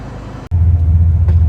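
A 600 HP OBS drift truck's engine pulls hard in second gear, a loud, steady low rumble that swells after a brief dropout and holds near and strong to the end.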